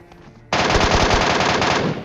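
Rapid machine gun fire from the video game PUBG Mobile breaks out suddenly after a quiet moment and continues as a loud, fast burst of closely spaced shots, with no talking.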